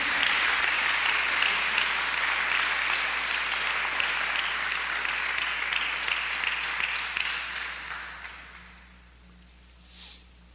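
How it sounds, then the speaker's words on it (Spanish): A church congregation applauds, a loud sustained wash of clapping that holds steady for several seconds, then thins and fades out near the end, leaving a quiet room. "¿Por qué no le das un fuerte aplauso al Señor?"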